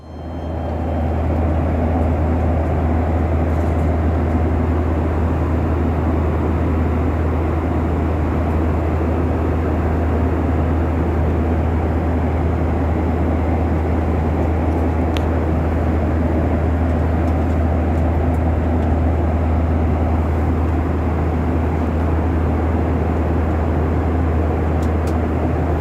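Inside an airliner cruising from Jakarta to Makassar, a constant loud low engine drone and cabin roar fills the whole stretch without a break.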